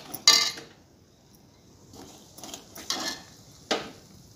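Eggs for egg bhurji are stirred in a pan: a few scattered scrapes and clinks of a utensil against the pan, with quiet gaps between the strokes and no sizzle heard.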